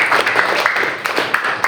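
A classroom of students applauds a classmate in a short burst of brisk, fairly close clapping from many hands, with voices underneath.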